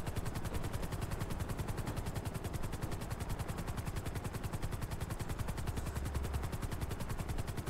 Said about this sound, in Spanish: el helicóptero de la ambulancia siempre tiene que volar bajo